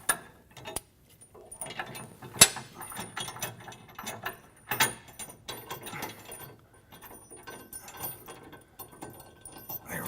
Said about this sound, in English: Just thread those in by hand